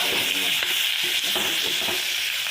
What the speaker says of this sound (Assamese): এনে কৰি এইফালে ভাজি লওঁ